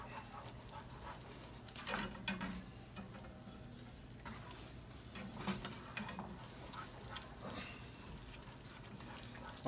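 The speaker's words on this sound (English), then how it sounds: "make sure the butter's completely melted" Butter melting in a pot over heat for a pecan rum cake gives a soft, steady sizzle with faint stirring scrapes, close and low, no voices.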